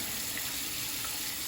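Tap water runs in a steady, close hiss over cooked lasagna noodles in a kitchen sink, a continuous even flow with no other sounds.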